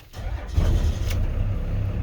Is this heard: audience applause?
no